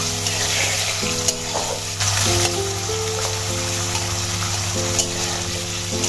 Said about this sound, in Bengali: এখানে আলুগুলো আমি লাল লাল করে ভেজে নিয়েছি